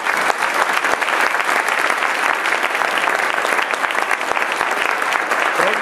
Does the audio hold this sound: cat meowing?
no